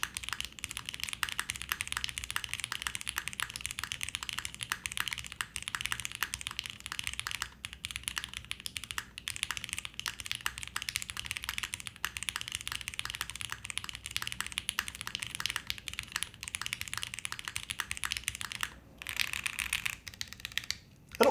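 Steady, rapid typing on a Paragon mechanical keyboard: dense clacking keystrokes continue with only a couple of brief pauses, close and clear, with no voices.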